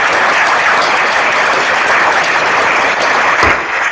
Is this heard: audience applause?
yes